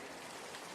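Rain for sleep, a steady, dense hiss of falling drops with no break, soft and even throughout the brief moment.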